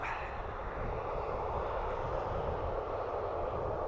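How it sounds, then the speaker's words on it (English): Jet engines of a TAP airliner spooling up at Dublin Airport, a steady loud broadband roar with a rumbling low end, continuous and unbroken throughout, with no voices. "So, tap is just spooling up now."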